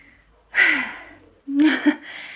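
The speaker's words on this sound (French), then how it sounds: "je vais reprendre mon souffle, ouais je suis vraiment essoufflée" Two bursts of heavy, breathy exhaling and gasping, close and fairly loud, separated by a short pause, like someone winded catching their breath.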